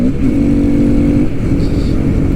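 A Honda Grom motorcycle of about 10 horsepower fitted with a Saddlemen seat accelerating, a loud close engine drone with rising revs and heavy wind buffeting over it.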